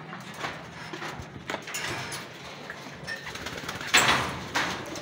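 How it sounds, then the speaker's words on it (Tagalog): Racing pigeons in a loft at afternoon feeding time, cooing softly and steadily amid rustling, wing flutters and a sliding scrape, with louder bursts of activity near the end. "maaga tayo nagpapakain pag araw ng loading mga kalapatid"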